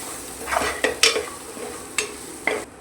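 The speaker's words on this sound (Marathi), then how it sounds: "हे मसाले पण छान असे आपल्याला परतून घ्यायचे आहेत।" Spices including turmeric and Kashmiri chili powder fry and sizzle in a pot for mutton kheema, a soft steady hiss punctuated by several sharp scrapes and taps of a spoon stirring, heard close with no talking.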